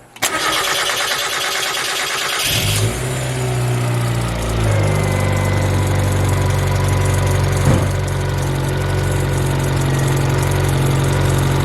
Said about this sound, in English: Let her idle for a minute or two.